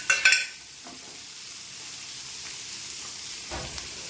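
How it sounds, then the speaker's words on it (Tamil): Cardamom, star anise, torn cinnamon stick and cloves sautéing in a pan for paneer butter masala, a soft sizzle with a brief burst of crackling at the start and a quieter steady fry after. "4 கிராம்பு இதெல்லாம் போட்டு வதக்கலாம்"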